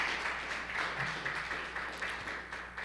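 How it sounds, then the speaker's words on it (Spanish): A church congregation claps together in a hall, a steady, fairly rhythmic patter of applause at moderate loudness that carries on without pause. "Dele un fuerte aplauso a Cristo Jesús."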